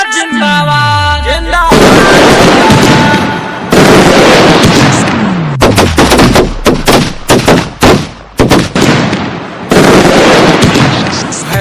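Diwali firecrackers bursting close by in a loud, rapid volley of sharp bangs and pops, with whistling rockets rising, the crackling barrage continuing almost without pause.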